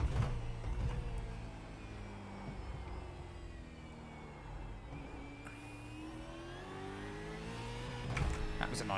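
Australian Supercar engine in the iRacing sim at Sandown, a continuous droning roar with pitch rising and falling through gear changes, steady and moderately loud with no talk over it.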